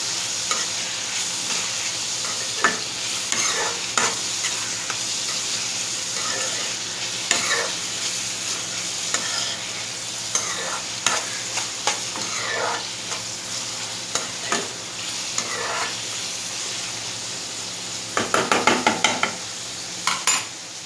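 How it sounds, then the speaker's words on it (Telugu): Spices and turmeric sizzle in a hot pan for an egg fry, with steady frying hiss, repeated scraping stirs of a spoon, and a quick rattling burst of stirring near the end. "వీటిని బాగా ఫ్రై చేసుకోవాలి"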